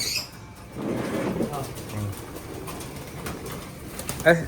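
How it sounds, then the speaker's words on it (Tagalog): Racing pigeons coo softly with a brief flutter of wings, while people talk nearby over a steady background. "Ay, natakot yung mga kalapate oh."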